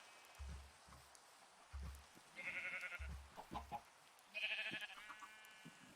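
Chickens in the video game Minecraft give a few faint, repeated clucks and squawks, playing quietly over low game background sound with no talking.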